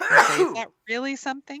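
A person lets out a single sharp sneeze, close and loud, and then talking follows right after it.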